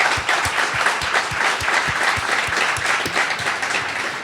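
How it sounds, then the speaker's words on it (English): A conference audience applauds James Gosling, the father of Java, with loud, sustained clapping from a sizable crowd, accented by a regular rhythm of stronger claps through the whole stretch. "please give the father of Java, James Gosling, a big round of applause"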